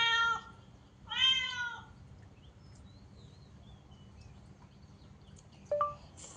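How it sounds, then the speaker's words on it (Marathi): A Siamese cat meows twice in quick succession, with long drawn-out wavering calls, then pauses before a shorter third meow. The calls are close and clear over a quiet background. "हे सायमीस मांजर आहे."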